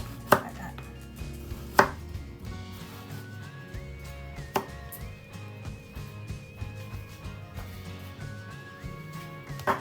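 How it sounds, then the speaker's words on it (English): A knife slicing courgettes diagonally into quarter-inch pieces on a cutting board, with a few sharp isolated chops over quiet, soft kitchen background sound. "Now I'm going to cut this like slightly diagonal, about 1/4 inches, 1/4 inch thick, like that."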